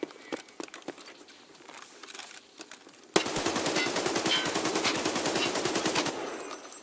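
A modded AK rifle in Escape From Tarkov fires a long, rapid automatic burst, loud and close, after a few seconds of quiet shuffling footsteps and small movement sounds.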